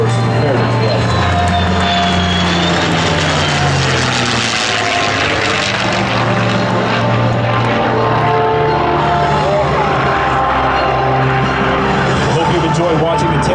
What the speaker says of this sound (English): look high overhead for the third and final pass of your United States Air Force Heritage Flight